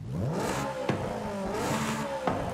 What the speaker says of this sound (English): This is the sport exhaust now.